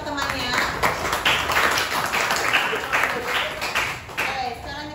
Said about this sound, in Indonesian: Silakan berikan tepuk tangan untuk temannya.